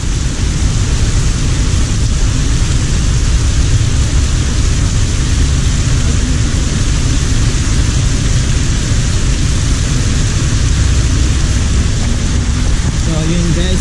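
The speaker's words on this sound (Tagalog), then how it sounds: "So ayan, tingnan nyo kung gaano kalakas ang ulan." Loud, unbroken downpour of heavy rain on Mount Arayat in Magalang, Pampanga, a dense steady roar that fills the whole stretch, with a brief voice near the end.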